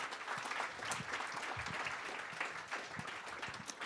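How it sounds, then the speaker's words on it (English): An audience applauds a speaker at a discussion event, a fairly soft, steady patter of many hands clapping with a few sharper individual claps. "Let's give him a round of applause."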